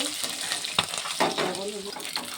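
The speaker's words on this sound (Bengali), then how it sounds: "মাছ ভাজা হয়ে গেছে, সব একে তুলে দিই।" Fish coated in salt and turmeric frying in a pan makes a steady close sizzle, punctuated by a few sharp clinks and scrapes as pieces are stirred and lifted out.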